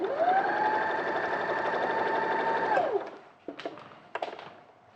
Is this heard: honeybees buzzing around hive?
no